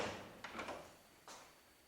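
A big heavy door at Nyker Round Church on Bornholm, Denmark, being opened, with a few soft wooden knocks and scrapes followed by a dull thud, fairly faint against a quiet room.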